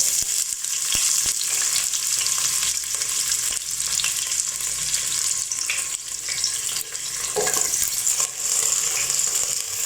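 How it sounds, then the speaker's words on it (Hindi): Sliced onions fry in hot oil with fenugreek seeds for a kadhi pakora, giving a loud, continuous close sizzle. A spoon stirs and scrapes the pan throughout, with occasional sharp clinks. "प्याज को काला नहीं करना, हल्का सा गोल्डन फ्राई होने तक बनाएंगे।"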